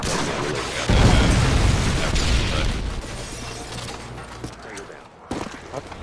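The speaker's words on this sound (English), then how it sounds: "Friendly Predator missile inbound." Predator missile strikes in Modern Warfare 2 on the Sub Base map land as a loud booming explosion that swells and rumbles for a couple of seconds, then fades into scattered gunfire and mechanical clatter, ending with a sharp closing bang.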